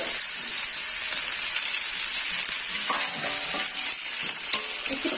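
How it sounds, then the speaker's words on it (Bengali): Mixed vegetables for dahi sabji sizzle steadily in a hot pan as they are stirred, with a bright, continuous frying hiss and faint scraping knocks from the stirring. "ভালো করে নেড়ে চেড়ে নেবো।"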